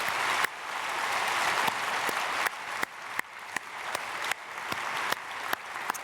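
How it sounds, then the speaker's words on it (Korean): Congregation applause welcoming new members at a Korean Sunday church service: a continuous rush of many people clapping, with sharp isolated claps standing out now and then across the run. "우리 크게 박수로 환영하겠습니다."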